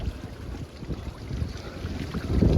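A bicycle rolling through floodwater on a city street in Paterson, New Jersey, with a low churning swish of water under the tires and buffeting wind noise on the microphone.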